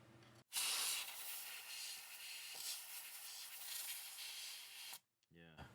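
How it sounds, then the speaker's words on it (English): Canned air blasts from a can in a loud, steady, close hiss lasting several seconds, then cuts off abruptly, with a short sputter at the end. "Let's see what the canned air does."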